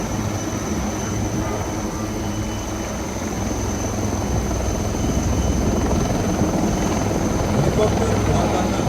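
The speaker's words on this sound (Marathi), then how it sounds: "अब आप ELH हेलीकॉप्टर द्वारा सर्च एंड रेस्क्यू का ऑपरेशन देखेंगे." A navy ELH helicopter flying a search and rescue operation over open sea at a Navy Day display in Sindhudurg, heard as a steady, loud rotor and engine drone throughout.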